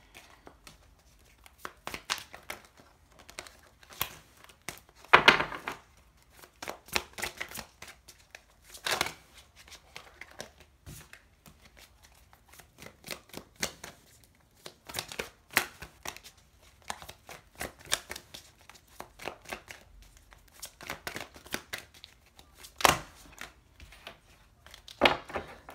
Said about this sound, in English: let me pull a couple more cards just for the advice